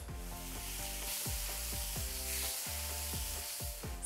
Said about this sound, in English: So you're gonna let the alcohol cook off for about 3 minutes.